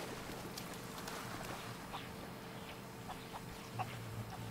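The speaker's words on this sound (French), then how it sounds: "Effectivement, je vois des poules." Chickens clucking in the pirate video game Sea of Thieves, faint, scattered soft clucks over a low steady background hum, with no talking.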